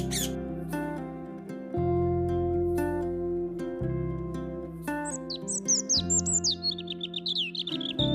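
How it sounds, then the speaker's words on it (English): A parrot call, bright chirps and squawks up high, laid over a steady melodic music bed that carries on throughout, the bird sounds clustering toward the end. "Parrot."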